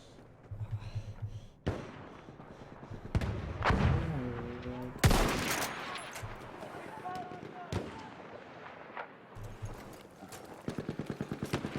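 Machine-gun fire in Battlefield 1, rapid rattling bursts at the start and end with heavy shots and blasts between, under occasional player talk.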